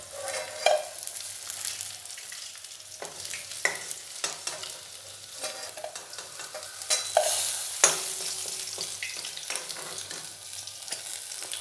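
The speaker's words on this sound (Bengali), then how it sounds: "হালকা করে মাছগুলো ভেজে নিলাম" Pieces of katla fish fry lightly in oil, a continuous close sizzle and crackle with frequent spatula scrapes and turning clatters throughout, and no talk.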